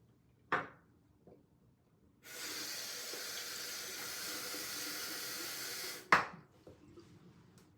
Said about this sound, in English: I'm adding water by dipping the tips in a cup of water that I have here